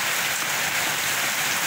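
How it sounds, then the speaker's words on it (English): Heavy rain pours down in a steady, hissing wash, loud and close with no other sounds. "Now it could be snowing and hard rain."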